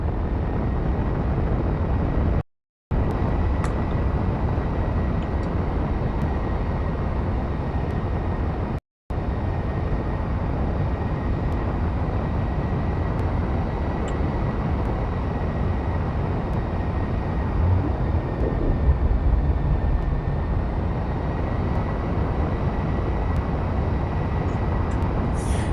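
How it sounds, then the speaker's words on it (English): A craft taking off, heard as a steady, loud, broadband roar that runs without letup, broken only by two brief dropouts near the start. "Be prepared for takeoff in 3, 2, 1."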